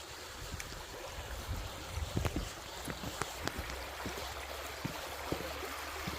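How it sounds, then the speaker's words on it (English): Steady broadband rushing of river rapids, heard from across a river crossing in a state park in winter with ice about, a constant distant wash with faint scattered clicks and no voices. "You can actually hear the rapids on the other side."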